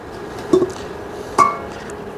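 A lid set onto a kazan cooking pot, two short metallic clinks about a second apart, close and fairly crisp over a low steady background.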